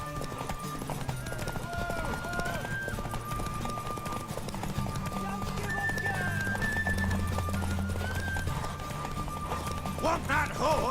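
A horse neighs and gallops in The Witcher 3, clip-clopping hooves and a whinny set under continuous in-game dialogue and background music across eleven seconds.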